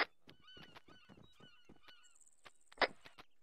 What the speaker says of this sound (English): Why are there seagulls?